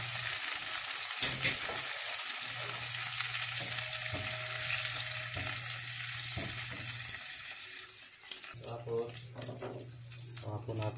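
Chopped onions sautéing in a pan for adobong galunggong give a steady, close frying sizzle with stirring and utensil scrapes throughout, plus some faint water or sink noise.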